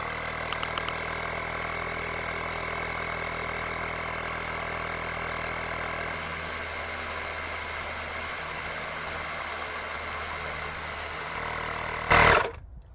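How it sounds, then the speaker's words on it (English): A 12-volt air compressor set to 15 psi runs steadily with a constant mechanical hum and rattle for most of the clip, ending with a brief louder burst of noise as it finishes; no one speaks. "So if we just go down to the compressor, we've set it for 15 psi, so we'll just start that."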